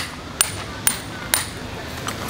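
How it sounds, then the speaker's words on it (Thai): Tent stakes are hammered into the ground at a campsite to pull the tent tighter. Three sharp, evenly spaced strikes ring out close by, then a fainter fourth, over steady outdoor background noise. "เราก็ต้องมาตอกสมอเพิ่มนะคะบางจุด"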